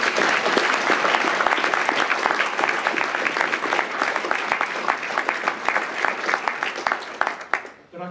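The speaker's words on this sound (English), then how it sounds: "I think that's worth a round of applause." Audience at a school prizegiving in Reading breaks into dense, sustained applause. Many hands clap close and loud for about eight seconds before the sound fades sharply at the end.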